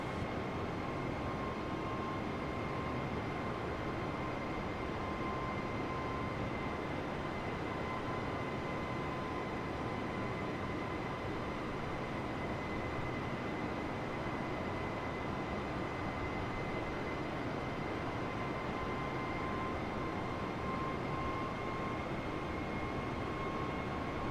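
A Jetstar airliner circles for landing near Sydney in a flight simulator game, giving a steady, even cabin-like engine drone with faint sustained tones and no breaks throughout.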